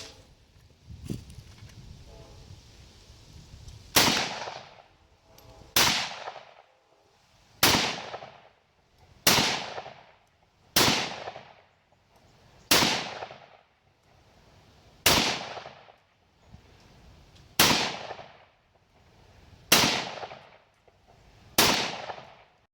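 An I.O. Inc. AKM-247 rifle fires about ten evenly spaced, loud sharp shots at a pumpkin target outdoors, each crack followed by a decaying echo, with quiet gaps between rounds.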